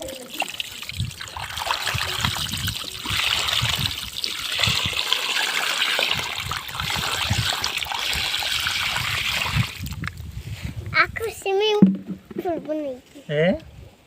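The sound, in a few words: water poured to wash a toy tractor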